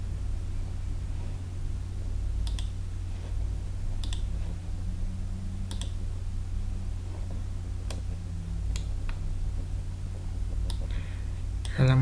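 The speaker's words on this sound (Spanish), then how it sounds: "Hacemos clic acá." Computer mouse clicks during CAD assembly of a bipedal robot, a handful of sharp isolated clicks spaced a second or two apart over a quiet background hum.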